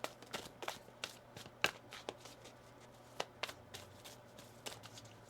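Tarot cards being shuffled by hand, a quiet series of soft riffling flicks and taps in an irregular rhythm, close and faint against a low background hum.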